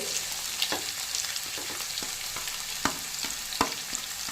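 Garlic, onion and green chilli fry in a pan with a steady close sizzle, broken by a few sharp clicks of stirring.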